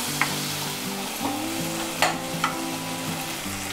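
Chopped tomato fries in spiced tempering oil, giving a loud, continuous sizzle with a few scraping stirs and light clicks of a spoon against the pan.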